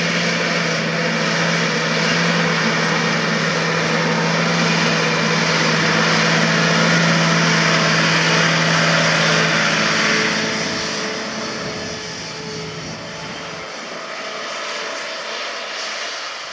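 John Deere 8295R tractor pulling a KMC field cultivator across a windy field, a loud steady engine drone that fades as it moves away, with wind noise, ending quieter.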